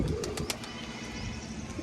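Pigeons perched up on a rooftop terrace coo softly against a steady outdoor background, with a few brief brighter calls early on, no talking.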